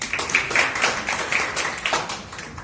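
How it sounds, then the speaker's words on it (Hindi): Audience applause welcoming a guest at a digital marketing session, a steady patter of many hands clapping at moderate level for a couple of seconds without letting up. "जोरदार तालियों के साथ स्वागत कीजिए हमारे स्वप्निल सर का।"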